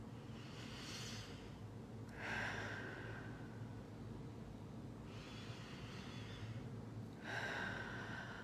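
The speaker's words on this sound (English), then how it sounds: "So a couple more nice deep breaths." Slow, deep breaths during a guided meditation, long airy inhales and exhales rising and falling in a steady rhythm, close and soft over a constant low background hum.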